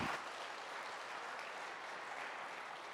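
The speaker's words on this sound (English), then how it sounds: "Let's give Sia a round of applause." Steady applause from an audience, even and sustained throughout, fairly distant and diffuse with no voices over it.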